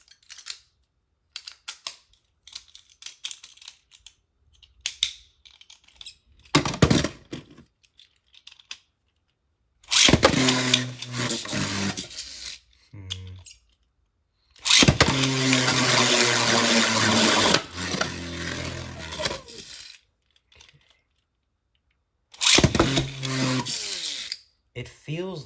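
A Beyblade launched with right spin from a custom launcher: sharp ripping bursts followed by sustained whirring spins, repeated several times with quiet gaps and occasional clicks between.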